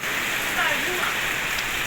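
Steady rain pouring down outdoors at a rural home, a dense continuous hiss of drops on surfaces, loud and even throughout.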